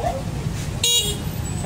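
Horn on an electric bicycle fitted with a five-set battery pack, a short bright honk heard once amid background noise and faint voices.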